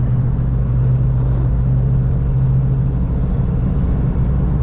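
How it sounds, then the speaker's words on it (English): A 1997 Toyota Hilux cruising, with a steady low road rumble and tire drone filling the cabin, constant and fairly loud throughout. "as soon as you go past 60, I think due to the thickness of the tires, you can feel the tire noise up to some level"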